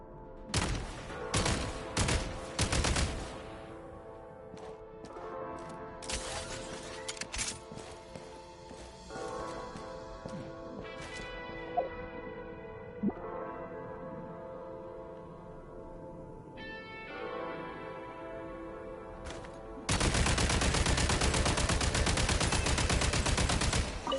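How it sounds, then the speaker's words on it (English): Gunfire in a video game, shots fired at explosives to blast a path clear: rapid bursts of loud shots at the start, sparse impacts and a metallic ring in the middle, then a dense sustained roar of fire near the end. "Shoot the explosives to detonate them and clear the path."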